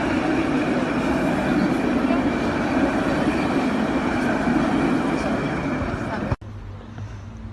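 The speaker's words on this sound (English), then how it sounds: "And here comes the tram, guys." A tram in France rumbles in steadily to a stop with a broadband rolling drone, then cuts off abruptly near the end, leaving quieter background.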